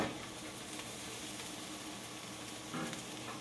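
Sliced garlic sizzling in oil in a pan, a steady close crackling hiss that swells briefly near the end as the pieces are stirred.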